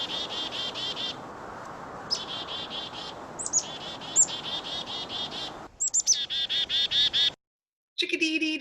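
Chickadee calls of quick, high, repeated notes ring out in short bursts over steady background hiss, with a pause near the end before a few more notes.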